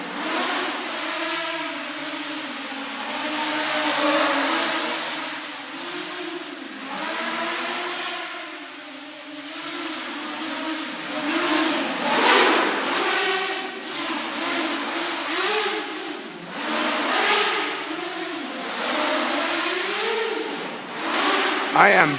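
An Armattan M230 drone with oversized motors flies indoors, its propellers whining and buzzing in rising and falling swells as the throttle shifts, close and steady for the whole stretch with no talking.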